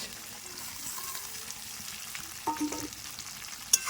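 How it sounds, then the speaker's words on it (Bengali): Tomato, potato and onion go into a pan of frying chicken curry, giving a steady close sizzle of hot oil with a few brief bumps and clatters as the vegetables are added. "এবার দিয়ে দেবো টমেটো আলু আর পেঁয়াজ"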